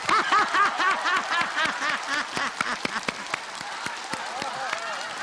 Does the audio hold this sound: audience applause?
yes